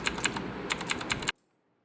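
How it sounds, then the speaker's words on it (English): Delete key on a computer keyboard pressed repeatedly during BIOS setup, about eight crisp close clicks in quick succession, then abrupt silence. "Then you need to continuously press the new delete button on the keyboard."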